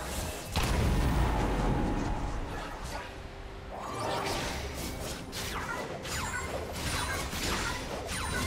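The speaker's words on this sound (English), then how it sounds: "Team's turret has been destroyed." A heavy crash and crumbling debris as a turret is destroyed in League of Legends, a loud impact followed by scattered smashing and whooshing effects.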